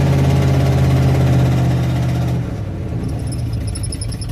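An engine running with its carburetor held down, a loud, steady close-up drone with a deep low rumble that drops in pitch and level partway through, then carries on rougher and slightly thinner.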